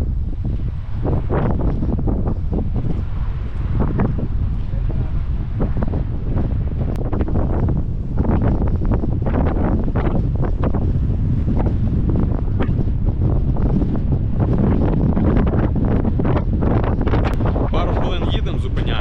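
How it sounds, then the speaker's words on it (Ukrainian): Strong wind on the coast of Oahu, Hawaii buffets the microphone throughout, a loud continuous roar with gusty rumbling and faint surf beneath. "Вітер."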